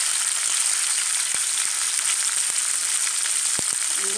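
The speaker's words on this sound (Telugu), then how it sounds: "ఎల్లిమిర్చి వేసేస్తున్నామండి." Green chillies and ginger fry in hot oil for tamarind rice, a steady close sizzle and crackle throughout with a few faint clicks of stirring.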